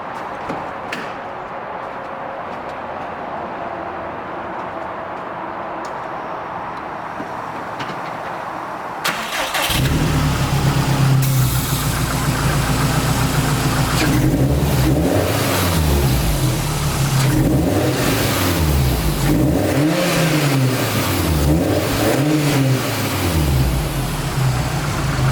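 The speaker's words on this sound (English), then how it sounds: "you guys can listen to this engine" A 2013 Subaru WRX sits quietly for several seconds, then its engine cranks and fires into a loud idle, followed by repeated rising and falling revs. The revving is close and steady, with no voices over it.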